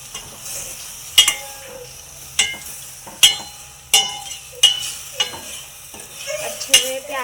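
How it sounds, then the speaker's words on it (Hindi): A spoon stirs onions through masala in a pan for a home-cooked onion curry, with a soft sizzle underneath and sharp scraping clinks of metal on the pan every second or so. "अच्छे से प्याज को चम्मच से हिलाना"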